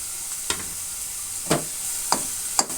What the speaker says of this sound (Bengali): এবারে গ্রেট করা ফুলকপিগুলো দিয়ে দেবো